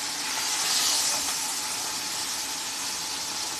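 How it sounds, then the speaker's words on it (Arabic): Chicken frying in a pan gives a steady, dense hiss, like steam, that runs the whole time with no pauses and no voices over it. "والفرخه برده بتتحمر اهي"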